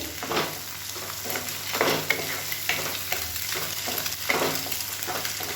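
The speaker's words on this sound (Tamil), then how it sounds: "இந்த ஸ்டேஜில் எல்லாத்தையும் சேர்த்து ஒன்றா கிளறிக்கலாம்" Egg and beans are stirred together in a frying pan for egg fried rice, giving a steady sizzle with repeated scraping strokes of the spatula, close and fairly loud, with no talking.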